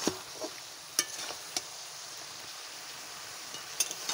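Spiced mutton with potatoes fries in a pan while being stirred, giving a soft steady sizzle broken by a few sharp clicks of a utensil against the pan.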